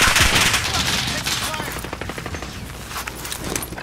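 Rapid automatic gunfire in a multiplayer shooter video game, dense bursts of shots rattling continuously and then thinning into spaced pops, loud and close, with a player talking faintly beneath.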